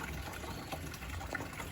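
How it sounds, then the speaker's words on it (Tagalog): Water runs steadily from an outdoor tap on a hillside, a soft continuous gush and trickle heard at moderate distance with no talk over it. "Dito lang may gripo."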